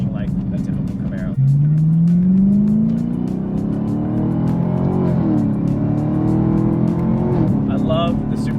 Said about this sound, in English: I love the supercharger noise.